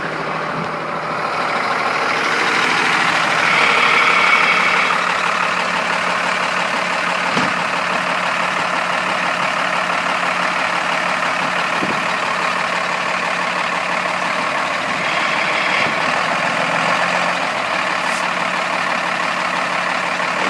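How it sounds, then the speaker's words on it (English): A 1998 Blue Bird TC2000 school bus engine runs steadily at a close, loud idle-to-low rev as the bus moves forward and back, with a sustained diesel rumble and faint beeps now and then. "We're going to move this van forward and this bus forward and back for you"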